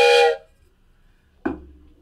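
A wooden train whistle gives a short, breathy, bright toot, then silence and a softer, airy second puff, close and alone.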